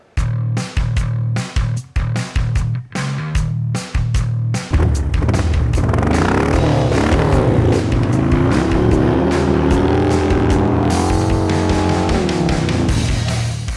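Chris Wiggins's hooligan racing motorcycle on an oval track: first a series of sharp, choppy revs and blips, then a sustained loud engine wail rising and falling in pitch as the bike laps, with no talking.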